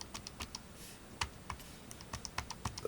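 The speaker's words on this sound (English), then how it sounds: "if you listen to this, the keyboard, hear this click? This little click click." Rubber keys on an NEC MobilePro 450 handheld computer click softly and irregularly as someone types, each press a short, close, dry tap over a quiet background.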